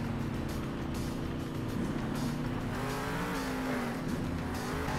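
Monster truck engine from Monster Jam Steel Titans 2 roars steadily throughout, a loud continuous drone with shifting pitch as it accelerates and rumbles over terrain, with occasional tire noise and no talking.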